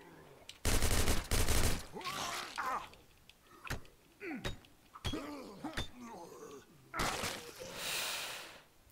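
Automatic rifle fire in the video game State of Decay comes in short bursts of rapid shots separated by quieter stretches, with breathy gasps and sharp single reports between them, at moderate level.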